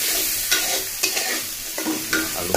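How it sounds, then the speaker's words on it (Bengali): Potatoes sizzle in hot oil in a pan while a utensil stirs them in regular scraping strokes, roughly twice a second, close and clear. "আলু ফ্রাইটা সুন্দর হয়ে উঠছে"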